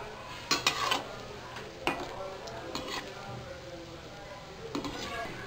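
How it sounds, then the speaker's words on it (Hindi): Pakoras in hot oil are turned with a utensil, sharp metallic clinks against the pan over a soft steady sizzle, with brief talk in between. "पकौड़ों को एक बार उलट पलट कर लेंगे।"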